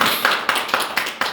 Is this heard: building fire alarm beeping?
no